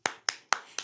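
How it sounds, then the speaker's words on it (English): Four sharp, close hand claps ring out in quick, even succession, each a crisp isolated slap with a short decay. "Give yourselves a big clap"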